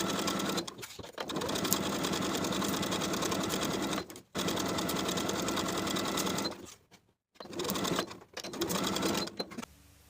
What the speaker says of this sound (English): Sew the outer edges of the collar with a 1/2 inch seam allowance.